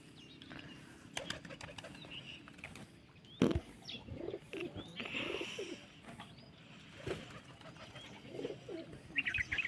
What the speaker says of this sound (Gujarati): આપણું આ ખાટલા ઉપર કબૂતર જે બેઠું છે